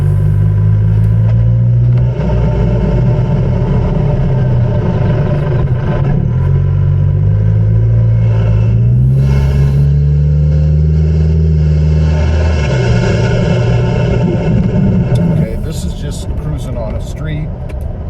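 A vehicle fitted with a Banks intake drives on a street, its engine droning loudly and close with a rising and falling turbo whoosh as it accelerates, steady throughout with brief shifts in pitch.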